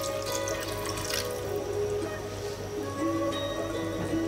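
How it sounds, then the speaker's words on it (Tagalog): Water runs steadily into a cooking pot holding seasoned chicken for Filipino pochero, a continuous splashing pour with no talk over it. "At maglalagay tayo ng tubig."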